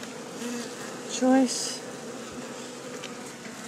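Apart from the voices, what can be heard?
honeybees buzzing in a crowded wild hive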